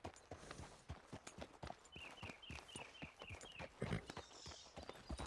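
Horse hooves clip-clop at a steady walking rhythm in the video game Red Dead Redemption 2, quiet and fairly close, with faint ambient game sound beneath.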